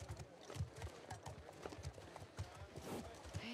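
Horse hooves clip-clop in a steady walking rhythm from a ridden horse in the video game The Last of Us Part 2, close and moderately loud, with a voice speaking over the hoofbeats.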